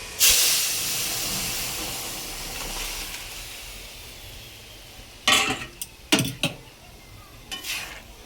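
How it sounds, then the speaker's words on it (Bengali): Dal poured into hot oil with fried chillies and bay leaves hits with a sudden loud sizzle that settles into a fading hiss, followed by a few sharp clanks of a utensil against a pan. "তেল গরম হয়ে গেছে, লঙ্কা তেজপাতা ভাজা হয়েও গেছে। এবার ডালটা এর মধ্যে ঢেলে দেব।"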